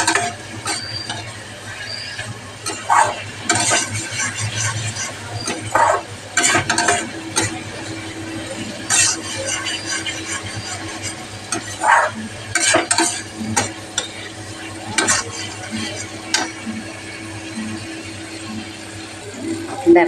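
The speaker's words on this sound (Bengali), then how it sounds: "এই দেখো ভালো করে এটাকে ভেজে নেব" Potatoes frying in a pan with turmeric, red chilli powder and salt, stirred with a utensil in repeated scraping strokes over a steady sizzle, while someone talks throughout.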